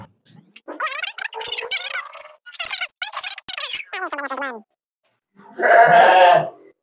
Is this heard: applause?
no